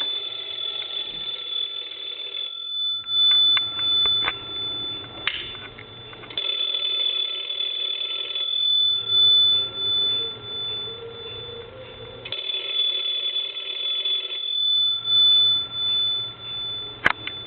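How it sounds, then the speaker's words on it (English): An old PTT stone telephone under repair rings loud and close, its bell sounding in repeated bursts separated by short pauses. "And let's ring the phone."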